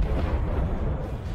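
An explosion from an attack in the Russia-Ukraine war comes through as a loud, deep, sustained rumbling roar that fills the whole stretch with no voices.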